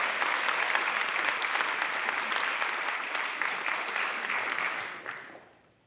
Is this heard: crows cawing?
no